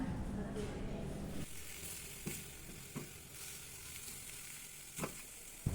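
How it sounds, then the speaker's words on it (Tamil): Soft sizzling of grated coconut sautéing in a pan, with a few light scrapes and taps as it is stirred now and then. "சேர்த்து நன்றாக வதக்கி விட்டுக்குங்க."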